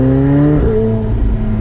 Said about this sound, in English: You got a little turbo whoosh, a lot of sound here with that back window open.